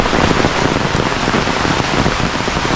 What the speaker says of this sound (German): es regnet halt seit zwei Tagen ungefähr so, wie es jetzt regnet